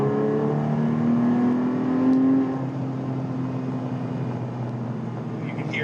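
A 2006 Porsche 997 C4S flat-six engine pulls hard in third gear from about 45 to 70, its tone rising steadily for a couple of seconds, then easing into a steady cruising drone with road noise.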